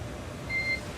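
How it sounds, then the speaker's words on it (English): A single clear electronic beep from SpaceX Dragon radio communications, lasting about a third of a second, sits over a steady hiss of background static. "And you'll be hearing those very characteristic beeps."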